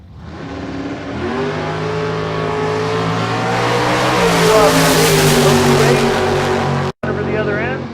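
A 1970 Camaro roars down a drag strip at a bracket race, its loud engine note rising and sustained for several seconds under a commentator's voice before a brief dropout.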